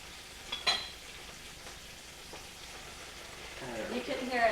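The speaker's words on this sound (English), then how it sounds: "You can hear it still sizzling away." Seafood for a date-night dinner with grits and collards frying in a pan after stock is poured in, a soft steady sizzle with a faint clink early on, growing livelier toward the end.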